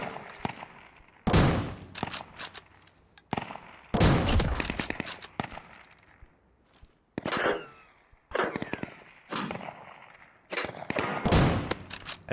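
Gunfire in the survival shooter Deadside: several sharp, loud bursts of automatic shots separated by short quiet gaps, with echoing tails between them.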